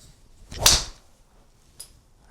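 A single sharp whoosh of a golf driver swinging through, followed by a crisp click of the ball being struck, close and alone.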